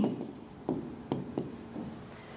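Chalk or pen strokes on a board during a Sanskrit lesson, a few soft scratching taps spaced irregularly, faint and close in a quiet room.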